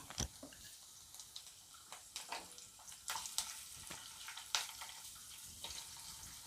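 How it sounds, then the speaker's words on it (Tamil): Quiet crackling and popping of green chilies, dried red chilies and ginger frying in hot oil, with scattered sharp spits over a soft sizzle. "இது நல்லா பொரியட்டும்."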